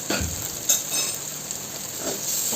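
Chili powder, garam masala and salt are stirred in a pan over a bright frying hiss, with a couple of soft utensil knocks near the start and a steady sizzle after.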